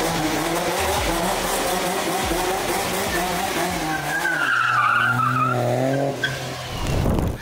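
A car drifts with a long, loud tire squeal and skid, its engine revving underneath, then a shorter screech near the end, heard close with no talk.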